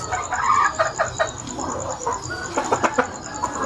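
Gamefowl rooster, an F1 cross of AAG and pure Gilmore lines, giving soft, scattered clucks close by over a steady background hum.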